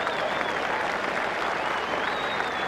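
A large Fijian crowd at a 1987 Rugby World Cup match against Argentina cheering and applauding, a loud continuous roar of clapping and voices with a faint whistle-like tone drifting above.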